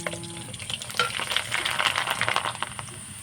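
Basmati rice is dropped by the spoonful into hot frying oil, giving a close, bubbling sizzle with crackly bursts that swell and then ease off over a few seconds.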